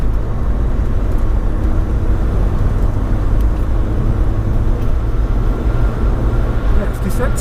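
A Mk2 VW Golf Rallye cruises in fourth gear at around 2,000 rpm, giving a loud, steady engine drone with road and cabin rumble heard from inside the car.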